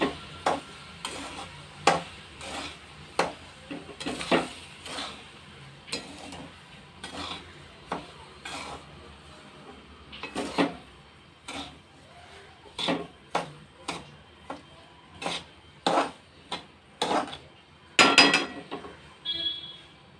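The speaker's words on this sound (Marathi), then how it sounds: "जो रवा आपण निवडून आणि भाजून घेतला होता तो टाकूया. आणि छानसा मिक्स करूया सगळ्या मटेरियलमध्ये." A spoon stirs roasted semolina into a tempering in a pan for upma, scraping and clacking against the metal in quick, irregular strokes, close and clear, without talk.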